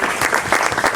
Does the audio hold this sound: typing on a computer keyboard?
no